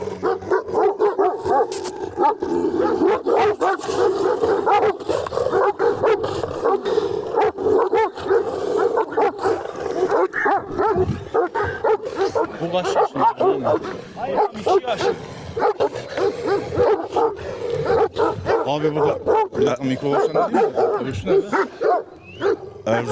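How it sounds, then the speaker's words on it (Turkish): A shepherd dog barks and yips repeatedly in close, busy bursts for a long stretch, with people talking underneath. "köpek de tam çoban köpeği. Evet. Tam bir çoban köpeği abi"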